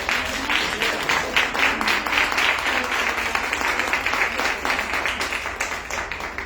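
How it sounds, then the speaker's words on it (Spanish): An audience at a university lecture gives steady, loud applause to welcome a speaker, many hands clapping in a dense continuous wash that holds level before easing slightly toward the end. "Un aplauso para recibirla."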